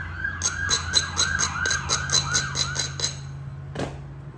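A police siren wails in a rapid repeating yelp, about a dozen quick rising-and-falling cycles, loud and passing nearby outdoors, then cutting off with a final short burst as it moves on.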